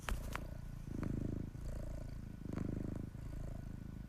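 Steady, rumbling purring that swells and fades in regular pulses, close and fairly loud, with no talking.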